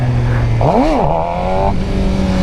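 A stock Suzuki GSX-R 600 engine revs up sharply and falls back during a power wheelie, one loud, close rising-then-dropping surge over steady idle-like drone, no voices.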